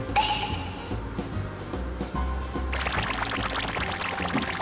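Fish sauce poured into a Thai canned-fish chu chee curry in a home kitchen, giving a short liquid pour followed by a brighter, busier splashing and bubbling stretch, close and moderately loud, with no talking.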